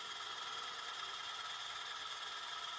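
A Rapido GE 44-tonner model locomotive's motor crawls at 1% throttle, giving a faint, steady high-pitched whine and hum with no talk over it.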